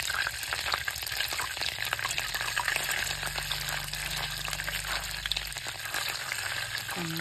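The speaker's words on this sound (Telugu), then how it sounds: "మరిగిపోయి ఇట్లా నెయ్యి అయితే ఆయిల్ సపరేట్గా అవుతుంది." Milk cream boils down into ghee in a pan, giving off a continuous close frying sizzle and bubbling that holds steady throughout with no speech.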